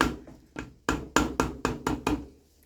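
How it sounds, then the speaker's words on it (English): A series of sharp knocks, about eight taps in an uneven rhythm, close by, as a hammer handle strikes gears and parts while reassembling a Honda H22/F23 Accord transmission. "You can use the hammer handle."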